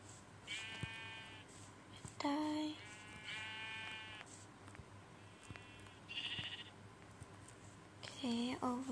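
Sheep in a crafting and building video game bleat in several short, separate calls of varying pitch, spaced out over a faint background.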